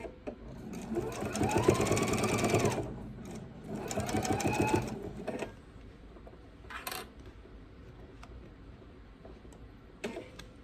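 A sewing machine stitching fabric for a bowl cozy runs in two loud continuous bursts with a short pause between, then quiets to faint handling taps and a few small clicks.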